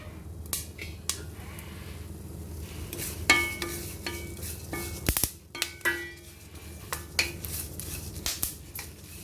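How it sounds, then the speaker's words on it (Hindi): Scattered sharp pops and crackles of seeds roasting in a covered pan, irregular and fairly quiet, with occasional louder snaps over a faint background hiss. "देखिए आपको आवाज़ भी आ रही होगी इसकी"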